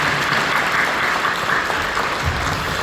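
A congregation at a church worship service claps together, a sustained, even patter of many hands in a large hall at moderate loudness.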